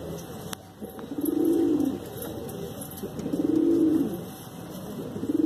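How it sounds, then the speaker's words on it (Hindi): A pure-breed desi pigeon coos in Bhopal, Madhya Pradesh, giving two long, resonant, throaty rolling coos a couple of seconds apart, close and clear over a faint background hum. "क्या होता है जब कबूतर घुटरता है तो उसकी पूरी शान दिखाता है"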